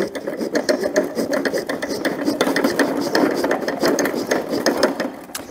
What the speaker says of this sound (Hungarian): egy-két húzással már elvágtam a felét ennek a kis botnak